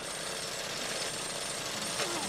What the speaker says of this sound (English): Oh, turn the lawnmower off. Turn the lawnmower off, please.